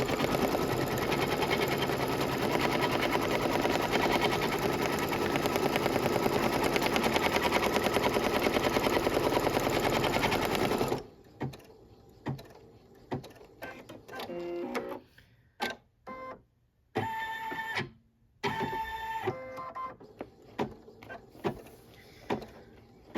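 A Brother NQ3550W embroidery machine stitches down an applique piece with a loud, steady, rapid needle chatter for about eleven seconds. Quieter intermittent mechanical clicks and whirs follow, then short stitching bursts with pauses, close up and with no voices.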